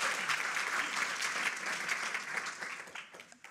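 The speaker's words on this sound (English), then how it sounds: "So, I really want a round of applause for all Somali Week supporters." Audience applause for supporters at the launch of the Somali Week Festival in London, 2021: dense, steady clapping from a sizable crowd that holds for several seconds and thins slightly at the end.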